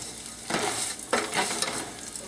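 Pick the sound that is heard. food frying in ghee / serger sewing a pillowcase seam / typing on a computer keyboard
food frying in ghee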